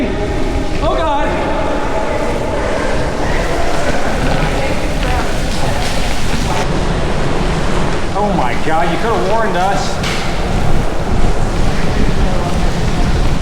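Water rushes out of a railway tunnel on a rail trail like a small muddy river, a loud continuous wash mixed with wind buffeting the microphone, while people talk and exclaim over it.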